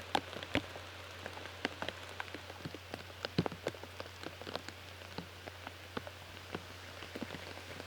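Rain falls outdoors on a disc golf course during a women's tournament round, steady soft hiss with scattered close drops tapping on surfaces, fairly quiet, no talking.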